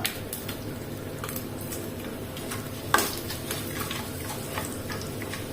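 Curry leaves and a cut dried red chili frying in hot oil with crushed garlic and urad dal, a steady close sizzle with scattered small pops and one sharp crackle partway through.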